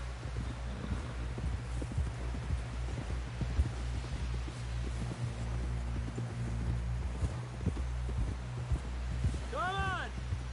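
Horse hooves clop in a steady, moderately close rhythm across a Red Dead Redemption 2 game trail, under low ambient rustle, with a brief voice near the end.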